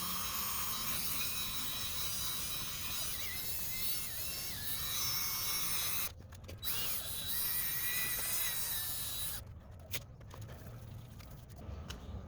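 A drill spins a P800 sanding disc against a car headlight, giving a steady high whirring buzz with brief pauses and changes in pressure, close and continuous without talk.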